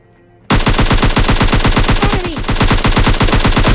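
Rapid automatic gunfire from a PUBG Mobile Lite match, a loud sustained burst of evenly spaced shots that cuts in abruptly after half a second of quiet and runs to the end.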